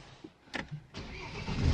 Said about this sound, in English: Back in then, let's fire her up